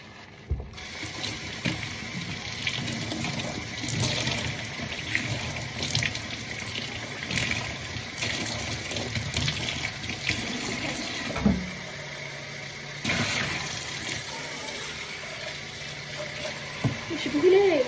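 Water runs from a tap in a home kitchen, a steady rushing wash with occasional clatter and bumps of items being rinsed, continuing for most of the stretch with brief breaks.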